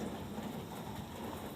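Rain falls steadily on a rainy day, a soft, even hiss of drops with no pauses across the brief stretch.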